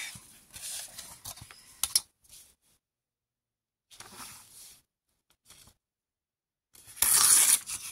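Washi paper pages cut roughly in half for a scrapbooking project, giving several bursts of crisp cutting and tearing, a short pause, then a brief rustle and a louder final rip, close up with no talk.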